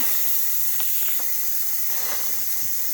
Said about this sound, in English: We're going to wait for the steam to come out and for this button to go down